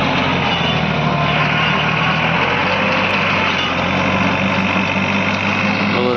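A New Holland 3630 tractor drives a single-speed rotavator through a grassy field, its loud, steady engine drone and heavy mechanical rumble continuing without a break throughout, close by and alone.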